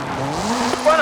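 Ford Focus RS RX rally car with a 2-litre turbocharged front-mounted engine and all-wheel drive drifting in Forza Horizon 5, a steady engine drone with tire squeal rising near the end, close and moderately loud.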